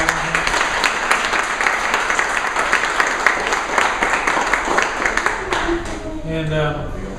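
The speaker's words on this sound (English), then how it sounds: "Will you give him a round of applause," A crowd at a grand opening of the Birch Bayh Center breaks into loud, sustained applause with many overlapping claps, tapering slightly as a voice begins to speak near the end.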